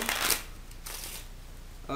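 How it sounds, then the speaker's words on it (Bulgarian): A deck of playing cards being shuffled for a card trick, with a quick riffle burst at the start, softer shuffling after, and a voice starting up at the very end. "първо трябва да размесим добре тестето"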